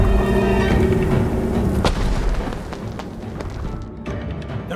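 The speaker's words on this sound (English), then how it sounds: "More fireworks! On all sides!" Fireworks explode in the Ghost of Tsushima video game, a loud rumbling boom with deep rolling low end, then a sharp crack and lingering blasts that gradually fade over several seconds.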